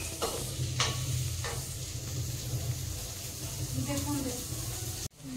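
Potato, eggplant and onion fry in a pan, a continuous sizzle with a few sharp stirring taps early on and a low hum underneath.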